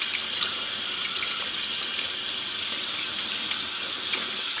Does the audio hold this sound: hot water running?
yes